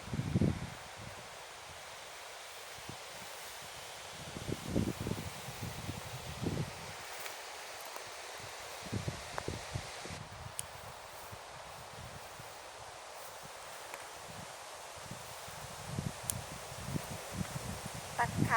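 Strong wind sweeps through a forest near home at dusk, rustling leaves in a steady, close wash with repeated gusty buffets and rumbles from the wind striking the microphone.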